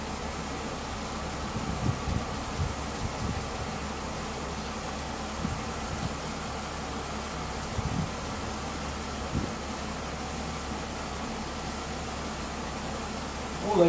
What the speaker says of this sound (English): Always like to let it idle for a couple of minutes, just let the oil circulate.